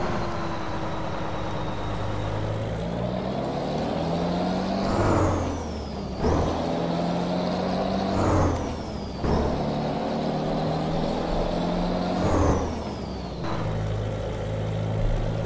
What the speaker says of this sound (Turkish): Aracın sese bak, sese.